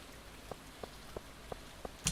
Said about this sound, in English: The sound of the rain falling occasionally.